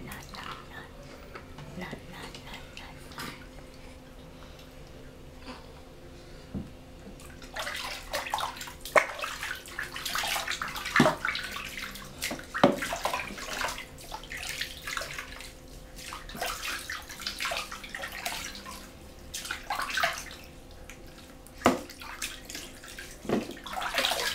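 Water splashes and sloshes in a tub while a young puppy is bathed, with steady running water and irregular louder splashing bursts beneath a person's soft, ongoing talk.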